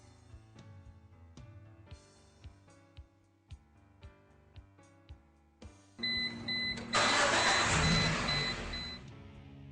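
During an oxygen sensor heater circuit test for fault P0135, steady regular clicks tick at first, then a car engine starts and runs with a loud, broad roar and a faint high whine.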